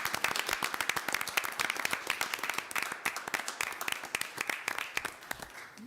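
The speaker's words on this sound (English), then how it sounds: "So can we give them a big round of applause?" A city council meeting audience claps in sustained applause, a dense run of sharp individual claps that thins out toward the end, with no talk over it.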